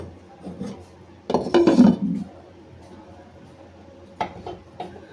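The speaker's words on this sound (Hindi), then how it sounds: "अब इसे 15 मिनट के लिए ढक देंगे।" A metal lid set down over a pot of simmering aubergine and potato curry gives a short clattering burst of clinks and scrapes, followed by quiet kitchen background and a few faint later knocks.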